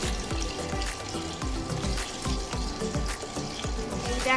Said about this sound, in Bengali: এই দেখো প্রথমেই পটলগুলো ভাজা হচ্ছে।